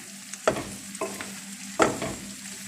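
Spiced curry being stirred in a pan, cooked Bangladeshi style with cumin and coriander leaves: a few scraping stir strokes over a soft steady sizzle, close and fairly quiet, with no talking.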